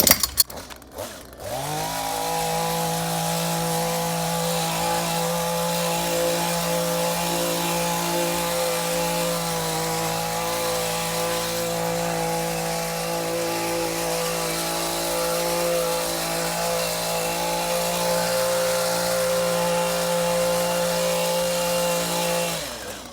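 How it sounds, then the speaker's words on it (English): Cephalotaxis shrubs are power-trimmed into a low hedge, the trimmer's motor starting with a short rattle and then holding a loud, steady whine close by for over twenty seconds, its pitch dipping slightly midway. "We're going to trim all three of these Cephalotaxis as one to be a hedge of sorts, a very low growing hedge."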